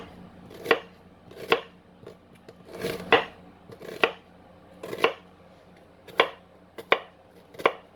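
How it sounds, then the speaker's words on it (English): A knife slices through a peeled onion on a cutting board in about ten crisp, evenly spaced chops, close and clear, with no talking. "One peeled onion. We're going to go ahead and slice this one as well."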